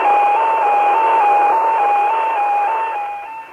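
A radio transmitter signal from a flying object, picked up over a radio receiver: a steady electronic tone that keeps stepping back and forth between two pitches in an even, repeating pattern, continuous and clear.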